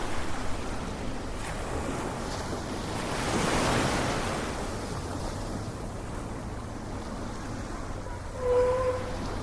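Waves churn and break on a huge Bangladeshi river during Cyclone Remal, with strong wind roaring over them. The surge swells louder midway and stays a loud, continuous rush throughout.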